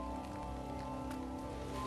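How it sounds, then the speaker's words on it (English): Steady rain falls in a dark video game scene, a soft continuous hiss that holds at an even, fairly quiet level throughout with no voices over it. "Now, the rain's going to pick up for some reason."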